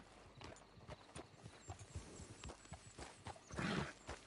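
A horse in the video game Red Dead Redemption 2 clops along with quick, irregular hoofbeats, then gives a loud, close whinny near the end, with faint game ambience behind.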